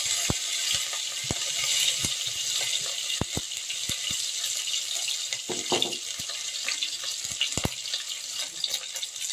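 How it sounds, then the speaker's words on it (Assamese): Steady hiss of chopped onions and chilies sizzling in hot oil, broken by scattered clicks and taps of a utensil against the pan; no talking. "তেলখিনি গৰম হৈছে, এতিয়া ইয়াত দিম কাটি থোৱা পিঁয়াজ আৰু জলকীয়া।"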